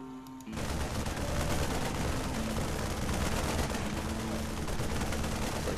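Rapid sustained gunfire from StarCraft II Marines shooting at Banelings in a video game battle, a dense unbroken rattle of shots that begins abruptly after a brief quieter opening and stays loud throughout.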